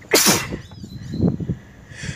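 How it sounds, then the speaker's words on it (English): A person sneezes once, loud and close, followed by a few softer breathy sounds and rustles. "So I want to sneeze so bad"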